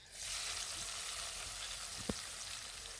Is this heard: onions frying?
yes